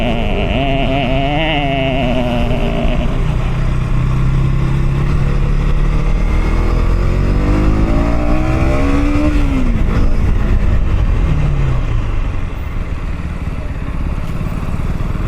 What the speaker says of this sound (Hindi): ये है देखो KTM का पावर। भागता है